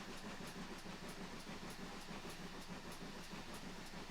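Steady rumble and rhythmic clickety-clack of a preserved railway train on the West Somerset Railway running at about 25 mph, heard continuously from on board.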